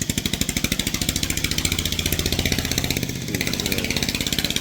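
A farm tractor engine runs steadily at close range, its low pulsing chug repeating evenly throughout with no voices over it.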